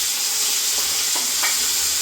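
Biryani-style bagara rice cooks in a pan with a steady bright sizzle and hiss, broken by a few soft scraping stirs.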